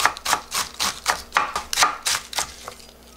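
Cabbage finely shredded with a kitchen knife, a steady run of about a dozen crisp, evenly spaced chops against a board, close and fairly soft, with no talk.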